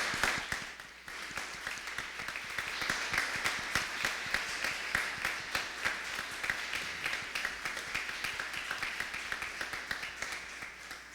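Audience applause for graduates at a ceremony, a dense run of sharp, distinct hand claps from a nearby crowd that holds steady for several seconds before ending.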